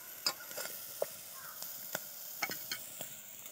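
Maggi noodles cooking in a pot outdoors in a jungle, stirred with a handful of soft scraping knocks spaced irregularly over a faint background hiss, quiet and close with no voices.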